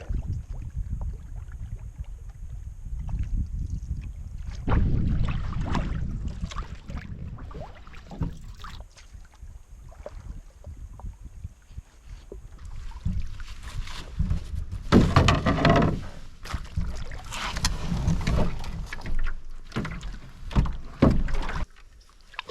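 Canoe paddling out from the Crooked Lake boat launch in Sylvania Wilderness on a warm day, with repeated paddle strokes and water swishes close to the microphone, along with some wind buffeting and knocks against the hull.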